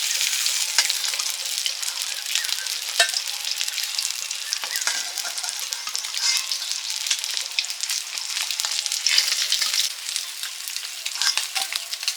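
Pieces of katla fish belly sizzle steadily in hot mustard oil, a dense, continuous crackle with occasional sharper pops and light stirring scrapes, close and fairly loud with no voices.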